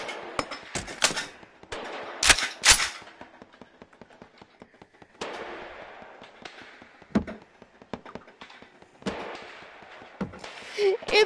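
Sharp, rapid gunshots from a semi-automatic weapon in a video game, fired in quick clustered bursts with short gaps between, loud and close against a quiet background.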